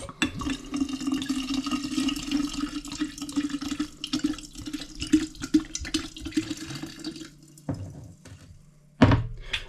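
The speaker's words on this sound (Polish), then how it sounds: "Dolewamy teraz wodę przygotowaną," Water and spirit poured onto strawberries in a jar to make a homemade strawberry liqueur, a steady splashing pour running for several seconds, then a brief pause and a short final splash.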